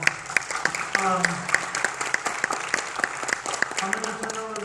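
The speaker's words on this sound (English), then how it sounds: "let's give them a round of applause" Audience applause at a university speaker series event: a dense, steady wash of many hands clapping close by for about five seconds, with voices and cheers mixed in.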